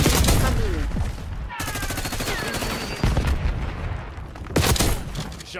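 Rapid bursts of automatic gunfire and booming shots from the video game Call of Duty: Black Ops 6, loud and close, broken by short pauses, with a player's voice talking over part of it.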